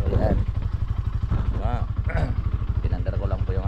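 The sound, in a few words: motorcycle engine being started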